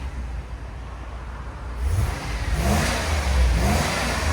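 A 2016 RAM 2500 HD with a 6.4L HEMI V8 and aftermarket resonator idles with a low rumble, then revs up into a louder, deep roar that holds and surges a couple of times.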